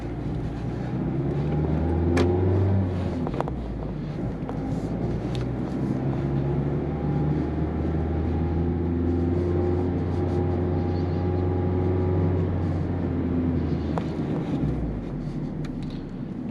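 Four-cylinder engine of a 2023 Mazda Miata heard from inside the cabin while driving, a low steady hum with gentle rises and falls in pitch, mixed with road and wind noise and no talking.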